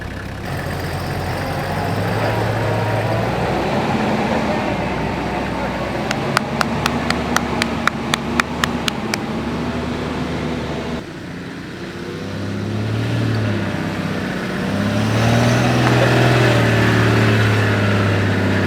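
A 4x4 in low range, wheels straightened, reverses, with a deep steady engine rumble that swells and eases, a quick run of sharp ticking clicks midway, and a person talking over it.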